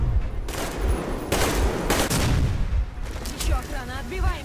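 Gunfire rips through a Metro video game battle, with repeated loud bursts and volleys of automatic shots and a voice speaking over the later shooting.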